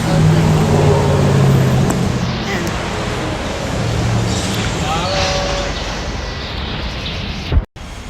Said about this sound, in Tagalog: umandar na itong tram